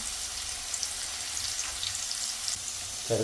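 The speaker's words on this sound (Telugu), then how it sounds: "అయితే ఒకసారి ఫ్రై చేసుకుందాం" Spices and garlic cloves for a lemon pickle fry in oil with a continuous close sizzle, a faint clatter near the end, and no voices.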